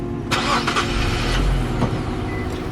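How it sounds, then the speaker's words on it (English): The engine of a 2018 Infiniti Q50 is switched on, a low steady rumble with a couple of brief clicks near the start, running alone without talk. "Alright, put the car on."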